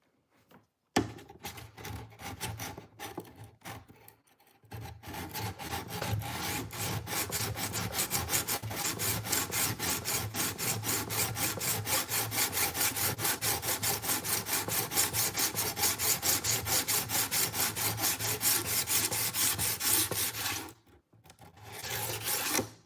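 A dull, flexible Dexter fillet knife is stroked rapidly back and forth on a cheap diamond sharpening stone, producing a steady, dense rasping scrape sustained for about fifteen seconds after a few hesitant starts, close and loud.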